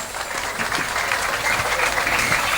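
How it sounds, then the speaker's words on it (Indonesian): Lively applause from an audience at an Islamic school graduation celebration with a wayang santri puppet show, a dense, steady patter of clapping throughout with no talk. "Tepuk tangan yang meriah."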